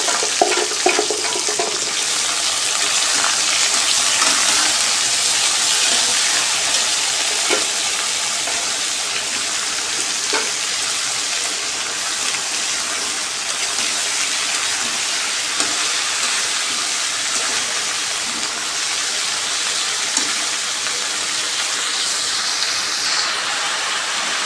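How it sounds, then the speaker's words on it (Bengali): Bitter gourd tipped into hot oil with already-fried chillies in a home kitchen pan, setting off a loud, steady sizzle that hisses continuously without a break and with no talking. "মরিচটা ভাজা হয়ে গেছে, এখন আমি করলাটি দিয়ে দেবো।"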